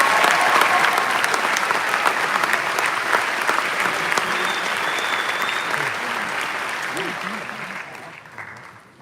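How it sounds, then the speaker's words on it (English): A commencement crowd applauds dentistry school faculty on stage, with long, dense clapping and faint voices and cheers mixed in before the applause fades out. "So let's give everyone a round of applause."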